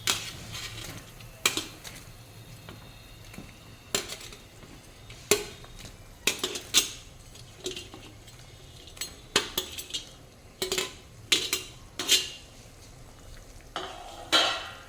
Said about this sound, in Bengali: এখন কিন্তু সেই মুহূর্ত, এখন চলে যাবে চিকেনের পিস।